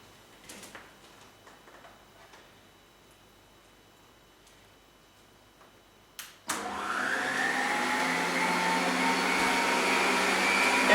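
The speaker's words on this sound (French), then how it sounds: "Et je fais tourner ma machine à pétrir" An electric kneading machine, a stand mixer, switching on after a few quiet clicks and then running with a loud, steady motor whir that builds slightly toward the end.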